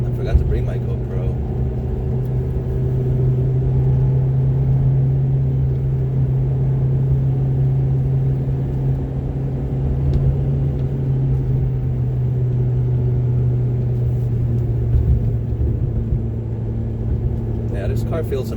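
A 2006 Ferrari F430 Berlinetta cruises along winding back roads, its engine a steady low drone heard from inside the cabin, with the note shifting slightly as speed changes and a voice talking over it.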